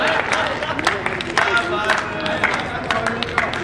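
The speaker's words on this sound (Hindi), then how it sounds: "जोरदार तालियां बजा दीजिए भाई सबरस के लिए।" At a comic poetry gathering, the audience claps for the poet Sabras, scattered sharp hand claps and crowd murmur running under a voice that keeps talking.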